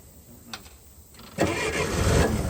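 An old Hyster flathead forklift engine turns over with a couple of brief cranking clicks, then catches and fires into a steady, rough running rumble that holds to the end.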